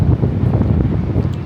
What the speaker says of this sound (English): I don't know how well you can hear us with the wind. It's pretty windy up here.